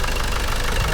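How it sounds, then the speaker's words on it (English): A 1995 Land Rover Discovery 300Tdi Camel Trophy event car with a recently reconditioned injection pump idles, its diesel engine giving a steady, close, even rumble throughout. "Recently reconditioned injection pump there, and yeah, just doing what it should, idling away nicely"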